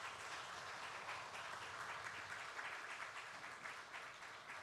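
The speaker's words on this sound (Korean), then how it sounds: "수고한 찬양 대원들에게 감사의 박수를 드립니다" A church congregation applauds its choir during a Sunday service, steady, even clapping from many hands heard at a distance and fairly faint.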